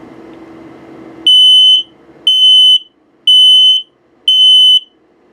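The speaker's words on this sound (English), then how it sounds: "Carbon monoxide coming up. And low battery alarm." Detector alarm in a 2022 Overland Ember 191MDB RV being tested for LP gas, carbon monoxide and low battery: four loud, long, high-pitched beeps at an even pace, following a low background hum.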